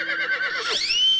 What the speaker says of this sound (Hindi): अरे ये तो एक्स्ट्रा घोड़ा आ गया